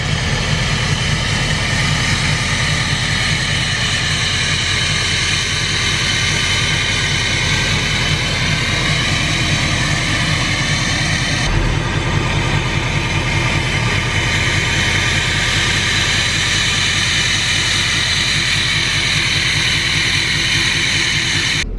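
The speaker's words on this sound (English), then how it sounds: "that is what we would consider basically a hiss tune" Diesel truck with a variable geometry turbo on a hiss tune, a loud, close, continuous high whistling hiss over a steady low engine drone, unbroken throughout.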